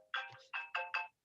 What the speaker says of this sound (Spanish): tengo un teléfono aquí que ha sonado y no debería haber sonado